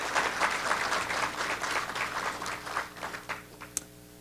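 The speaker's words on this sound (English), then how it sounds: "Let's give her a round of applause right" An audience applauds at a community leadership awards event, a brief burst of clapping that fades gradually over a few seconds, with a sharp click near the end.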